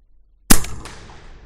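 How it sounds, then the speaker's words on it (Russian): One sharp, loud crack from an Edgun Leshiy 2 air rifle bursts out of silence and fades quickly into a brief ringing tail. "Сейчас я на нижнюю настроюсь и еще три раза выстрелю."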